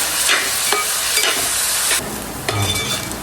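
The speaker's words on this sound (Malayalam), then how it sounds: "അപ്പം നമ്മൾ ചോപ്പ് ചെയ്ത് വെച്ച സവാളയും കൂടെ ആഡ് ചെയ്ത് കൊടുക്കുകയാണ്." Chopped onions frying in a pan for a chena beef fry, a steady close sizzle with stirring scrapes and a few light clinks of a spoon against the pan.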